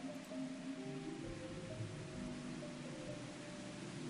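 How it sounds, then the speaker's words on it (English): Heavy rain pours in a Japanese indie horror game as a steady, dense hiss, with a low hum of ambience beneath it and no voices. "As heavy rain fell and strong winds blew"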